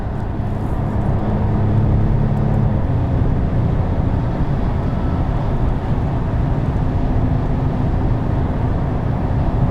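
A 2021 Porsche 992 911 Turbo S accelerates hard, its engine a loud, steady roar that holds throughout, heard from inside the car.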